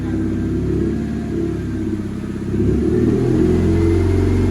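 A Honda Civic's engine idles and rumbles up close, then revs a little as the car creeps forward into a garage, its low drone steady throughout.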